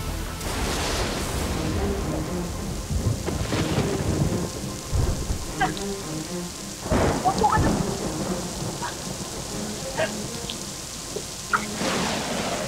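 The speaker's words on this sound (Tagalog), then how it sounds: "Mamaya, titila din yung ulan, ha?" Steady heavy rain pours down, with several loud rumbles and cracks of thunder breaking through, while people talk briefly in Tagalog in the foreground.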